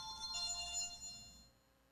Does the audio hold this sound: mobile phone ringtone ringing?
yes